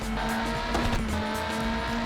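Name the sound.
Lister race car tyres squealing in Le Mans 24 Hours video game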